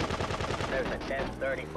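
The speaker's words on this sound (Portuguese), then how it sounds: "Esse Kill Friends aqui de matar as pessoas com metralhadora é bem de boa." Rapid machine gun bursts sound in Grand Theft Auto 2 on PlayStation, a dense rattling stream of shots with a brief faint voice-like tone mixed in.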